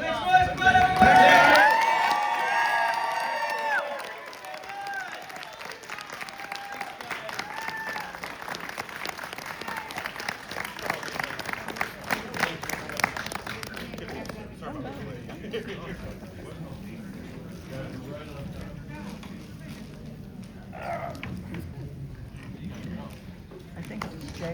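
A Comic Con crowd at the Indiana JAG panel erupts in loud cheering and applause, peaking in the first few seconds, then settling into lighter scattered clapping beneath ongoing voices from the stage.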